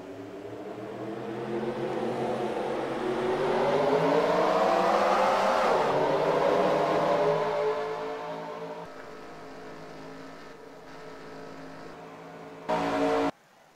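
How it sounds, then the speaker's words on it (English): A field of race cars passes in a racing video game's cup series race: a loud engine roar rises to a peak and sweeps past, then fades to a steadier drone, with a short sharp burst just before the end. "Pace cars going to go by. And here come the field."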